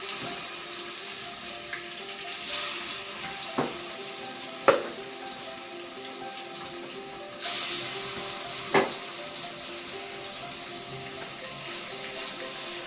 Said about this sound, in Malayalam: ഈ ചിക്കൻ കഷ്ണങ്ങൾ ഓരോന്നായിട്ട് ഇപ്പം വെളിച്ചെണ്ണ ചൂടായി വന്നിട്ടുണ്ട് ഇതിലേക്ക് ഇട്ട് കൊടുക്കാം